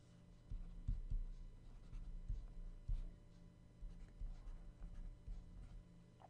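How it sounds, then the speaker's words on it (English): Pen or pencil drawing a triangle on paper for a trigonometry lesson, a quiet scratchy stroking with a few firmer taps and lines, close and faint, no talk. "So let's draw the triangle now for this."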